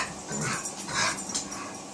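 A pet dog barks and yips when asked to speak for a treat at Thanksgiving, a few short, fairly near vocalizations over light room noise.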